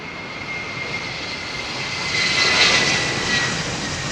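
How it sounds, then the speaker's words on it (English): A jet airliner departing London Heathrow gives off a broad, loud roar that swells over a few seconds and then eases slightly, heard from nearby without speech. "these all different types of aircraft in all different guises and different power plants, different sizes, do their thing and watch them fly"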